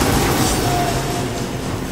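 A train approaching in the video game DmC: Devil May Cry gives a loud, steady rumbling roar with a faint ringing tone riding on top, continuous and close throughout.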